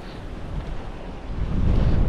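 Strong southwest wind blowing along the coast at Cabo Frio and Arraial, buffeting the microphone steadily and building louder toward the end, with surf rumbling underneath.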